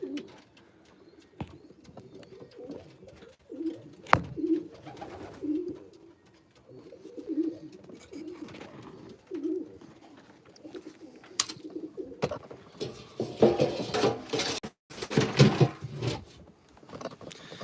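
Racing pigeons cooing repeatedly in low, throaty murmurs inside a large loft, with occasional wing flaps and fluttering bursts toward the end, reverberant enclosed space.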